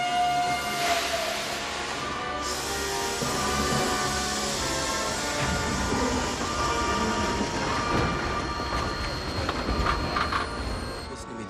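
A train rumbles steadily and loudly, with a long high whistle or horn tone sustained over the rolling noise.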